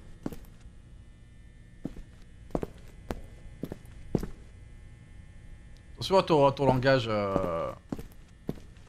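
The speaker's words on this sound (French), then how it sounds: "Il y avait des bruits de pas" Footsteps sound in the video game Liminal Departement as a slow, irregular series of distinct thuds against a low hum, followed by a person talking.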